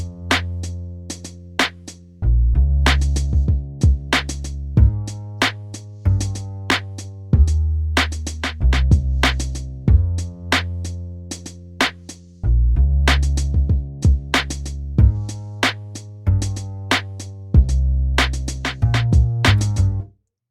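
Upright bass line in a lofi hip hop beat, deep plucked bass notes moving under sharp, repeated percussive hits and keys, looping steadily in a relaxed groove for about twenty seconds.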